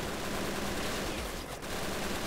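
An MG42 machine gun firing in a World War II strategy game, a dense, continuous rattling burst of rapid shots at steady loudness with a brief dip partway through.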